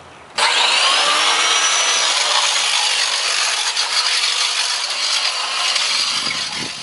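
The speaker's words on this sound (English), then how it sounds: "I like to go over it with a masonry grinder to clean that opening out so it's nice and smooth." A masonry grinder smooths out a concrete door opening, starting abruptly and then holding a loud, steady, harsh grinding roar up close.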